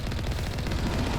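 Rapid, continuous automatic gunfire from a sci-fi shooter game, Mass Effect 1 Legendary Edition, dense and steady across the whole moment with no talking over it.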